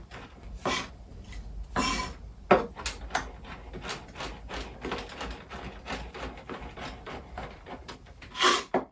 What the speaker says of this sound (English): we're going to chop up these cranberries so they're nice and fine, nice and small pieces